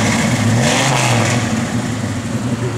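A 1964 Chevrolet C10 pickup engine revving nearby, a loud, rough mid-pitched roar that swells and eases back over a few seconds without any talk.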